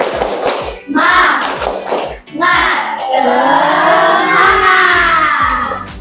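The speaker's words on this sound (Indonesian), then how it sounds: "kita tepuk semangat dulu biar semangat ya" A class group does a rhythmic cheer clap, with sharp patterned hand claps mixed with children's voices chanting along, loud and close in a classroom.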